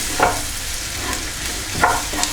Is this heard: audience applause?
no